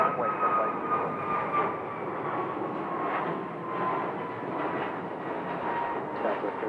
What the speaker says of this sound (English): there's an American Airbus on departure